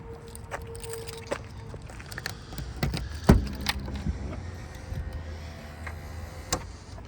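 The power pull-down closes the trunk of a 1992 Cadillac Allante: a sharp thump, then a brief electric motor hum drawing the lid shut, amid scattered clicks and handling noises.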